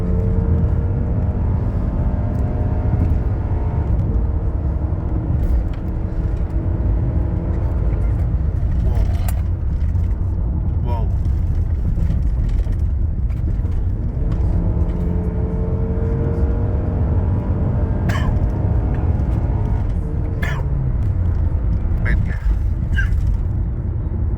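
A Honda Accord G9 2.0 engine, just given a valve adjustment and tuning, revs in a workshop. A loud, steady engine drone with low rumble runs throughout, swelling slightly with the throttle.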